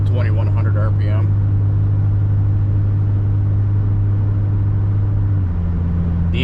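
A 3rd gen Nissan Frontier engine and exhaust drone steadily at low revs while climbing a hill, a deep continuous hum with a brief voice at the start.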